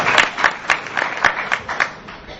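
An audience at a public debate on the clash of civilizations breaks into scattered, rhythmic clapping, a handful of distinct sharp claps spaced evenly over a soft crowd background.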